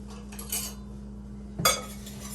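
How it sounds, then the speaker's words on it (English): Dry biscuit ingredients with salt and baking soda are mixed in a bowl: soft utensil scrapes and a brighter clink against the dish over a steady low hum, with no talking. "Mix my dry together so it's nice and even."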